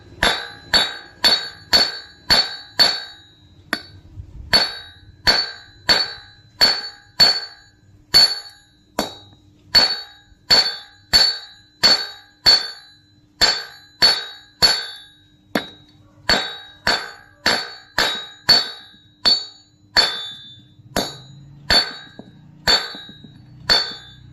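Rapid, steady hammering on metal in a DIY workshop, sharp ringing clangs struck in quick bursts with brief pauses, loud and close throughout with no talking.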